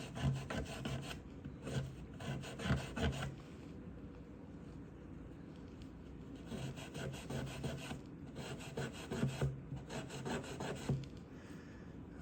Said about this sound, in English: I'm going on each side of the frets, getting the grime out of there.